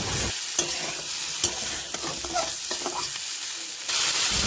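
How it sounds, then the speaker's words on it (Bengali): Fried fish and potatoes are stirred into spiced oil in a wok. A steady, close sizzle runs through it, broken by scraping stirs, with no talking. "এবার ভেজে রাখা মাছ আর আলু কড়াইতে দিয়ে দিলাম, দিয়ে ভালোভাবে কষিয়ে নেব।"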